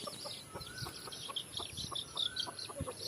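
Chickens cluck in a rapid, continuous string of short calls amid rustling in bushes as a fighting rooster is being caught, fairly faint with steady background noise.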